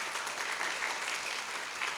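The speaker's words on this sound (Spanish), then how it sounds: "Fuerte ese aplauso." A church congregation applauds after a prayer at a Spanish-language sermon, a dense, even wash of clapping from many hands throughout, fairly soft and with no voices.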